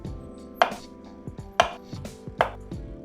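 Chopping food in the video game Cooking Simulator: three sharp knife-on-board chops land about a second apart over a quiet hum of game sounds, with no talking.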